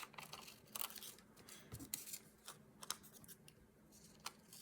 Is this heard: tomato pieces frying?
no